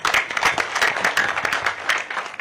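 A gathering claps in rhythmic, uneven bursts of applause, mid-loud and close, with individual hand claps standing out in a lively, irregular patter and no talk over it.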